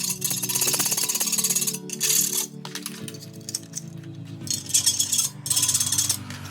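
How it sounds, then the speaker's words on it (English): PVC cable trunking is filed to widen its opening. Rapid, rough rasping strokes come up close and loud in a few bursts with brief pauses. "It's a little bit tight to fit the other piece of trunking, so I'm going to widen the opening using a file."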